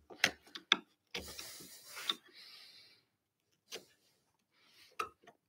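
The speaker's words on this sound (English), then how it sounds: "I can use the mortise chisel to cut and give us the strength to cut it out" A mortise chisel scratches out the bottom of a mortise in wood for a side table, making sharp scraping and clicking strokes in an irregular rhythm with pauses between bursts.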